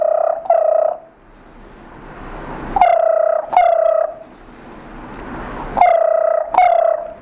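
A voice mimics an STD telephone ring as heard with the receiver held to the ear, giving three paired buzzy, tonal rings that are loud and close, separated by brief hissy gaps.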